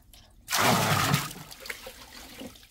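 Water spilling and splashing from a broken household water pipe that is flooding the floor, a loud gushing burst that settles into a softer steady trickle and dribble.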